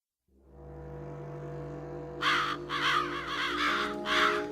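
A crow caws in the video game Psychonauts, about four loud, harsh caws in a row that arrive after a couple of seconds of steady low droning background.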